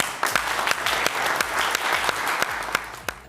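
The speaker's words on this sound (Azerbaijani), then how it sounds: "Bu alqış sizindir." Audience applause at a youth centre live stage sketch, steady clapping from a modest crowd with sharp individual claps standing out, continuous and fairly close.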